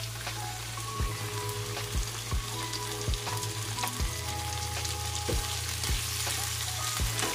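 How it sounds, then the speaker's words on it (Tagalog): Squid for adobong pusit frying in a pan, a dense crackling sizzle with a steady low hum beneath and spoon or spatula knocks every second or so, close and continuous. "ilagay na natin yung ating pusit"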